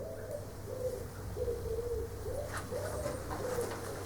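Pigeons or doves nesting beneath a stone church tower, with soft repeated cooing calls in a steady rhythm over low background hum, fairly close and moderately quiet.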